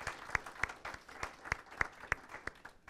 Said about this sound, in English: One more round of applause, actually,